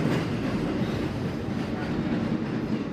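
A Boston Red Line subway train rumbles steadily across Fort Point Channel, a dense, continuous low roar of wheels and carriages with no pauses, heard close and fairly loud.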